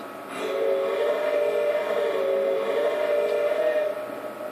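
A steady mechanical drone with a sustained whistle-like tone, loud and continuous for several seconds, tapering slightly at the end.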